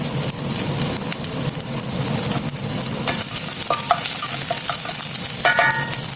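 Garlic stir-frying in oil for broccoli beef, a close, steady sizzle with scattered scraping stirs and a few brief clinks, loud and without speech.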